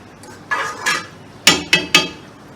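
A spoon clinking against a pan while chilli sauce goes in for chicken Manchurian, several sharp metallic taps in quick succession, close and clear against a quiet background.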